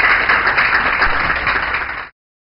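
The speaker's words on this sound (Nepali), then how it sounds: "कृपया उहाँलाई तालीद्वारा स्वागत गर्न" An audience at a Nepali TV show applauds to welcome guests, dense continuous clapping that holds steady for about two seconds and then cuts off abruptly.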